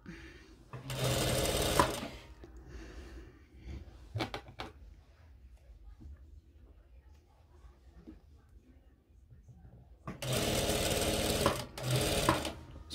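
Sewing machine stitching a seam on a jilbab cape, two loud sustained bursts of motor whir at the start and end, separated by quiet handling noises and brief clicks.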